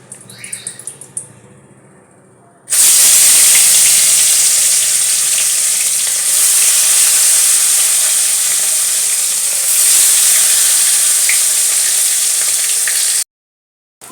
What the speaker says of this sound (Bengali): তেলটা আমার গরম হয়ে গেছে। এবার আমি মাছগুলোকে ভালো করে ভেজে নেব।